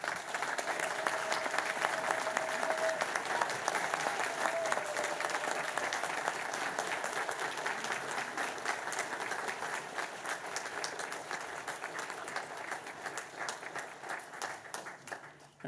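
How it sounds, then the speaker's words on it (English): A large graduation ceremony audience at Griffith College Dublin applauds in a long, sustained burst. The dense clapping fills the hall, holds steady for about a quarter minute, then gradually thins and fades toward the end. "applause, or however you like."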